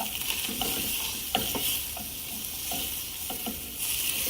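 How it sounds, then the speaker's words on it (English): A blackened barramundi fillet sears in a little sesame oil in a hot pan, giving a steady close sizzle broken by occasional soft scrapes and stirring clicks. "Just a tad of sesame oil, just to give it a little bit of stuff to push it around in, so it continues to do that great sear on that side."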